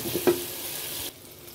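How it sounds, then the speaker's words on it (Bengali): Spice paste for a Jessore-style chui jhal beef curry frying in a pot, a steady sizzle with a quick scrape of stirring near the start before the hiss drops quieter. "মশলাটা এভাবে ভাজতে হবে"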